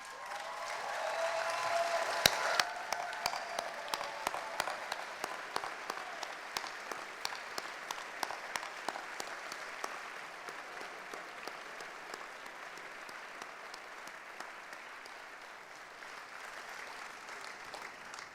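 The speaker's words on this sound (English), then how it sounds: "we would like to give them all a round of applause" A large graduation ceremony audience at a school of business, law and communications gives a long, steady round of applause, with a few sharper, rhythmic claps standing out nearby before it gradually thins.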